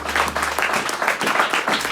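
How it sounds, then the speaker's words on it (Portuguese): A church congregation at an evening service in Tete claps in a dense, steady wave of applause that holds at an even level throughout, close and filling the room, with no voices clearly audible over it. "Dá uma salva de palmas à palavra de Deus nesta bela noite"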